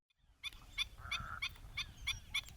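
Flock of wetland birds, flamingos among them, gathering at dusk at a Gujarat wetland, a series of about eight regular honking, goose-like calls rising out of silence, fairly faint and distant.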